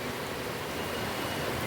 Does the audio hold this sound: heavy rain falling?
yes